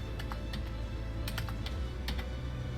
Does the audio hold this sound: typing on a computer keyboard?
yes